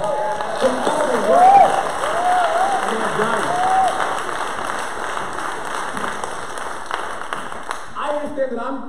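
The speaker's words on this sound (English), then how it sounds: "let's give the best punters a round of applause" A church congregation applauds, with light, scattered clapping and murmuring crowd noise beneath it, while a voice is heard over it.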